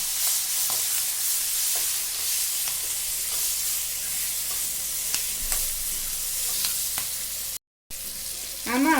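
Green chillies stirred in a pan with turmeric, sizzling and frying at a steady close hiss, with several sharp scraping clicks of a spoon against the pan throughout.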